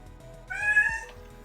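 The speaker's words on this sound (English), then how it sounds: "Meow, I hear you, cat." A cat gives a single short, clear meow up close, rising over quiet background sound.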